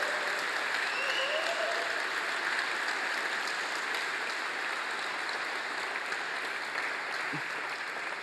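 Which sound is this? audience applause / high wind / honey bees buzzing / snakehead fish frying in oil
audience applause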